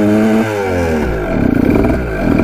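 Kawasaki dirt bike engine, a mouse-infested bike that had been locked up, revving and dropping back in loud, close, harmonic-rich bursts with a sputtering pulse, no talking.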